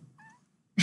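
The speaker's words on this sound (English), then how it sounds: "Cat's on the table." A cat gives a single short, faint meow indoors, followed by a sudden louder burst of noise at the end.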